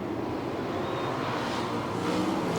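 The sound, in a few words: sprint cars accelerating at race start, Knoxville Raceway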